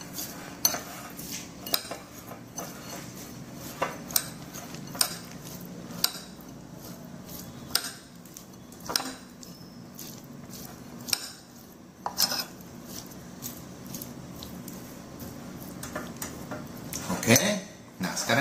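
Dough filling being mixed with fried garlic and dried shrimp for chai kue, heard as scattered clinks and taps of a utensil against a bowl over a quiet room, with occasional sharper knocks and no talk.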